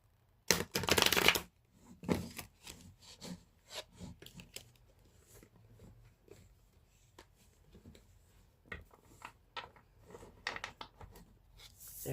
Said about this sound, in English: when I went to go shuffle, my cards just kind of flailed out